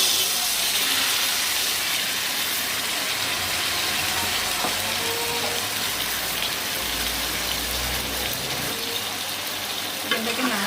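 Chicken pieces coated in chilli paste frying in a pan for green pudina chicken, giving a steady, close sizzle that runs throughout with some stirring clatter and no talk.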